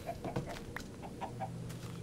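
Chickens clucking in the Minecraft video game, several short soft clucks at an uneven rhythm over a low steady background hum, fairly quiet and close.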